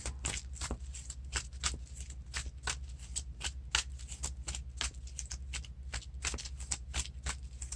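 Cards being shuffled in a rapid series of soft, crisp riffles and flicks, fairly quiet and close, with no voices.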